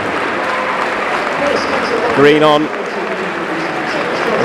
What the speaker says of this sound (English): Round of applause for Ben Pringle.